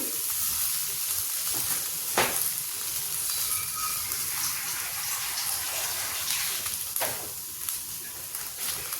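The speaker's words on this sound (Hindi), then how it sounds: "अब इसे डालेंगे थोड़ा सा पानी।" Water poured into a hot pan of mung-bean pakora kadhi, giving a steady, loud sizzle and hiss with a few sharper bursts of spitting across the whole stretch.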